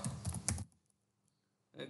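A short burst of computer keyboard typing while entering a browser search, a quick cluster of close keystrokes followed by silence and then another brief burst.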